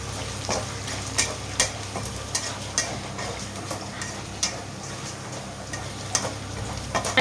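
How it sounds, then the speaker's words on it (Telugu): Crushed garlic and tempering spices fry in hot oil, giving a steady sizzle with frequent small pops and ticks spread evenly throughout and no voices. "పోపు వేగిన తర్వాత వెల్లుల్లిపాయలు, చితక్కొట్టిన వెల్లుల్లిపాయలు వేసుకోవాలి"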